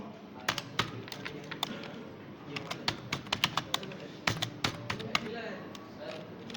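Someone types text on a computer keyboard, a steady run of crisp, close key taps with uneven rhythm, under someone talking.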